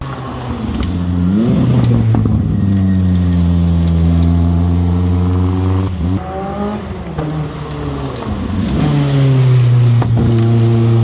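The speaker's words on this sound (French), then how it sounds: "la 205 T16 Evo 2, qui connut la fin du groupe B avec son moteur XU turbo de 530 chevaux envoyé aux 4 roues" A Peugeot 205 T16 Evo 2 Group B rally car with its 530-horsepower XU turbo engine and four-wheel drive revs loudly and close by, its pitch climbing and falling in repeated sustained sweeps.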